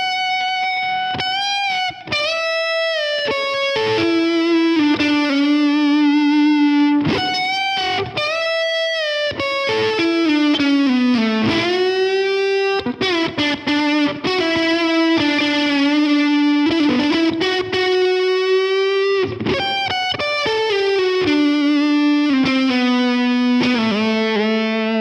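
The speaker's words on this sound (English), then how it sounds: "just notice on the bends how that reverb plays out." Distorted electric guitar solo with bent notes and long reverb tails ringing out between phrases, played alone without voices.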